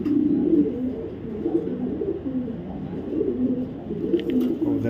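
Repeated soft cooing from a female racing pigeon with a cut tail, a low rolling coo that recurs steadily throughout at close range, with a faint click near the end.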